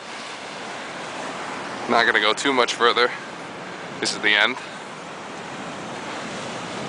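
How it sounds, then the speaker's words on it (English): Ocean waves break and wash steadily along the rocky shore at Giant's Causeway, a constant surf rush mixed with wind buffeting the microphone while a person speaks briefly over it. "I think the waves actually are breaking up here"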